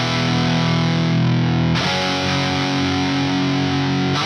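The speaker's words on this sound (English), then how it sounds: "This Black Winter Dirt in the Les Paul." Les Paul guitar fitted with a Black Winter pickup playing slow, heavily distorted chords, two long sustained chords ringing loud and close with a clear change partway through, no voices.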